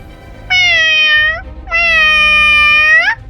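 Two long, loud meows from a cat close by, separated by a brief pause.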